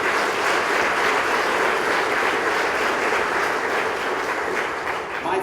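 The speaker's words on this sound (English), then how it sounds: "please give EO Minnesota a rousing round of applause" An audience at an entrepreneurs' rally applauds EO Minnesota with loud, sustained clapping that fills the whole stretch evenly before easing slightly at the end.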